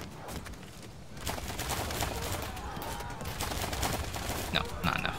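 Archers loose a volley in the medieval strategy game Field of Glory II, a dense, steady rattle of massed shots and clatter lasting throughout, with a few sharper clicks near the end.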